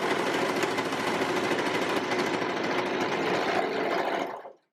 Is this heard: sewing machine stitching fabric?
yes